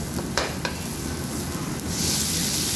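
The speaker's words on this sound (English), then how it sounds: "Here goes the oil first into the hot pan, then garlic, ginger, onion" Garlic, ginger and onion fry in hot oil in a pan with a dense, close sizzle and a couple of quick stirring scrapes, the hiss growing brighter toward the end.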